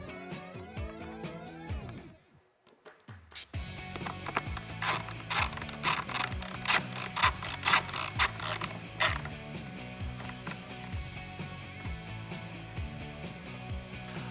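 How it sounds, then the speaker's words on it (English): Tightening a cold air intake harness bracket bolt on a 2019-2022 Silverado/Sierra 1500 5.3L with a 5/32 Allen socket ratchet: a steady run of close, rapid ratchet clicks and mechanical ticking after a brief pause, with no talking. "I'm going to use the provided hardware and a 5/32 Allen socket to tighten it down."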